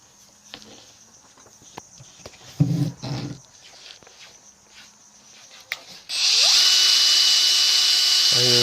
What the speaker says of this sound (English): to drill it with the camera in my hand, so we don't have any stability on the plexiglass. So I'm very lightly drilling right here.